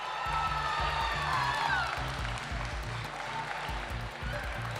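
A crowd at a junior handling event at a dog show applauds steadily with some cheering mixed in, the clapping dense and sustained throughout.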